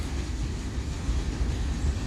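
A CSX freight train rolls past at steady volume, a continuous low rumble of rail cars with no breaks or voices across the short stretch.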